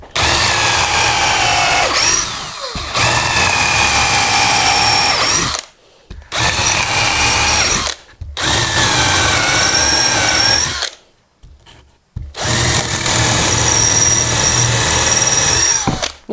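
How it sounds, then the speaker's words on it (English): Power drill boring holes into old pine from a wooden pallet for an insect house, loud and close, running in long sustained bursts with brief pauses between them. "You could have in there and drill the holes in it"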